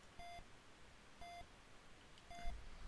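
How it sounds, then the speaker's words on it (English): A World of Warcraft add-on sounds a warning in the video game: three short, evenly spaced electronic beeps, clear over quiet background noise. "So there should be an audible beep with my add-on."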